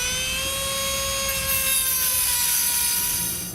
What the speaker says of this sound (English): something we like to do is just kind of trim these bolts off a little bit